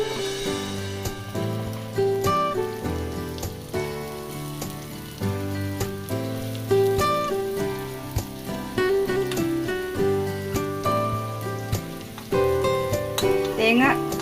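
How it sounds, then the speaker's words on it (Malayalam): Grated coconut fries in ghee for rava unniyappam, giving a steady crackling sizzle like light rain. It runs beneath louder background music throughout. "അപ്പത്തിൻ്റെ മാവിലേക്ക് കുറച്ച് തേങ്ങ നെയ്യിൽ താളിച്ച് ചേർക്കുന്നുണ്ട്."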